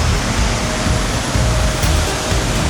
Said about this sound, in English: So they have this fountain here. It's always flowing 24/7.